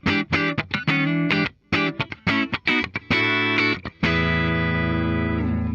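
Clean electric guitar, a 2022 Fender Japan Stratocaster HH on the neck pickup, with a warm, full tone plays short rhythmic chords, ending on a sustained ringing chord.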